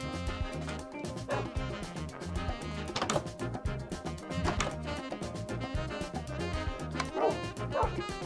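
Dogs in the video game Minecraft bark, yip and whimper in short bursts over continuous game music, moderately loud throughout.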